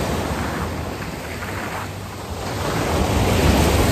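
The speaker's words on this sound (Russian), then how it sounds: "Вон, видите, какие волны." Sea waves washing onto the shore in Montenegro, a steady broadband surf roar with wind noise on the microphone, swelling louder toward the end with no voices.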